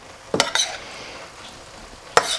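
Spicy basil chicken pasta being stirred in a pan: three sharp scraping strokes of a utensil, two close together and one a moment later, over a soft steady sizzle, with no talk.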